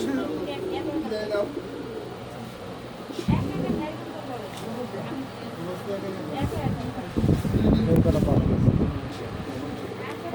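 Pigeons kept in a loft coo softly and repeatedly in the background while people talk nearby throughout.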